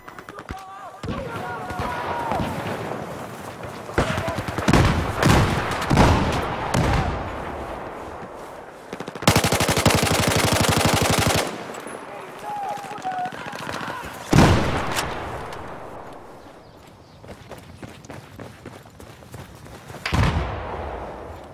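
Gunfire crackles in a Battlefield 4 multiplayer match, with bursts of rapid shots and booming blasts scattered through the clip. A player talks over much of the combat.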